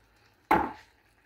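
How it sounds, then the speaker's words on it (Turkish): A single sharp knife chop through tomatoes against a board, close and crisp, trailing off quickly into quiet. "Domatesimi de böyle doğradım."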